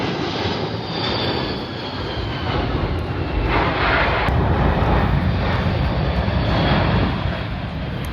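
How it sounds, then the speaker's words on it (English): A loud, continuous airplane engine roar at the Sun and Fun air show, close and steady with a slight swell and fade, and no voices over it. "Big plane go vroom vroom."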